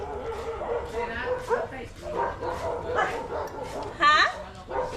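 A pack of wild dogs squabbles in a string of yelps, whines and barks, close to mid-distance, with a sharper high yelp near the end over a steady outdoor background.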